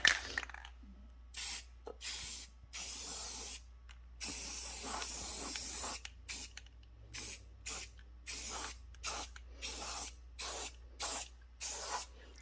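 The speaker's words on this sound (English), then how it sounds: "I'm just going to quickly spray these." Spray paint hisses onto homemade Christmas tree ornaments in a lighter Golden Sunset shade, coming as a rapid series of short, close bursts separated by brief silences, with no talking.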